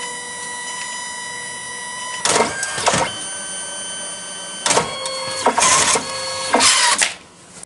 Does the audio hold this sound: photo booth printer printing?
yes